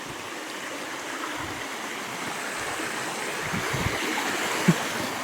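Steady broadband rush of water flowing from a pipe, continuous and fairly close, with a few soft low thumps near the end.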